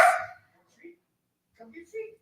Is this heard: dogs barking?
yes